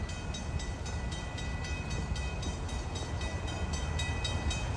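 An Amtrak train passes at a Sacramento rail crossing, a continuous faint rumble of rolling wagons with a steady rhythmic clatter, heard alone at a distance.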